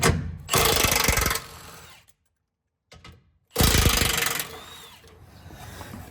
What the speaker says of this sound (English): using a 16mm socket and an extension, I'm going to go ahead and remove the 2 bolts securing the carrier bearing to the frame